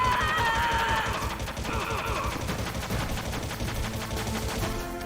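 Gunfire in the Metal Gear Solid video game: a sustained rattle of rapid shots, loud and close, with tonal game sounds layered over the first couple of seconds.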